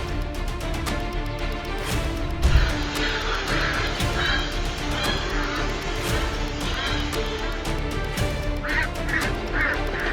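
Several ducks quacking and honking loudly after a hawk attack, a dense, continuous chorus of repeated calls close by, with a brief thump partway through.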